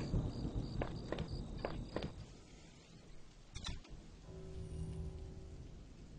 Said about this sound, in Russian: Судя по звукам, сейчас начнется дождь